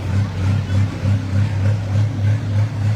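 Pro stock pulling tractor engine idling at an outdoor pulling event, a deep pulsing rumble with a steady throbbing rhythm, moderately near and loud throughout.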